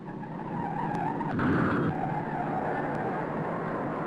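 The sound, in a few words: race car in the 1955 Indianapolis 500 going through the turn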